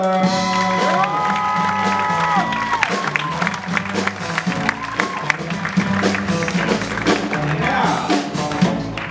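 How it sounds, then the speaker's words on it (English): A comedy club crowd claps and cheers loudly as a stand-up comic is introduced, with music playing under the sustained ovation for about nine seconds. "Everybody give a round of applause for Jourdain Fisher."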